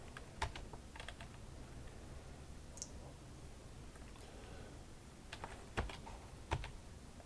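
Faint, close typing on a computer keyboard, a few scattered clicks and a short quick burst of keystrokes near the end over a quiet room hum.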